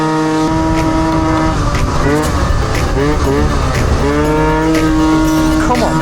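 A scooter fitted with a Stage 6 overrange kit revs hard uphill past its power band, its engine droning at high pitch with rising and falling tone changes, while a voice talks over it.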